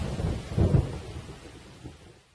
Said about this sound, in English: There was a bright flash and a huge crack of thunder.